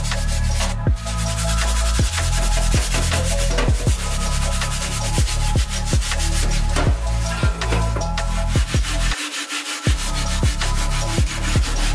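A rusty 10.5-inch cast iron skillet scrubbed hard with a wet SOS steel wool soap pad, giving loud, close, rapid back-and-forth abrasive rasping strokes that keep going without pause, no voices.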